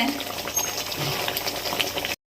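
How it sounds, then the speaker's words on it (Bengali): Fish curry broth with sea chanda fish and slit green chilies bubbles in a pot, a steady close hiss of boiling liquid that cuts off abruptly at the end. "জল ফুটছে"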